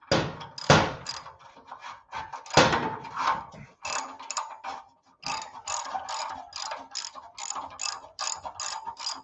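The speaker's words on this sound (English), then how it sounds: "What I'm doing now is I'm tightening up the crossover pipe." Ratchet tightening the exhaust crossover pipe on a Harley-Davidson motorcycle with Stage 2 upgrades, heard as rapid, close clicking pawl bursts in repeated strokes, some louder thunks early on, then a long steady run of quick ratchet clicks.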